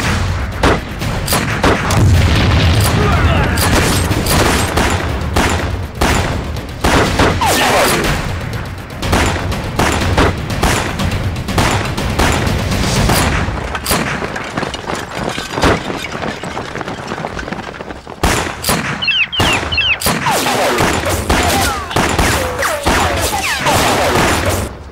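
Rapid rifle and machine-gun fire mixed with heavy booming explosions fills a Chinese anti-Japanese war film battle, dense, loud and nearly continuous, with bursts crowding one another and brief lulls between volleys.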